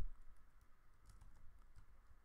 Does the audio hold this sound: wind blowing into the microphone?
no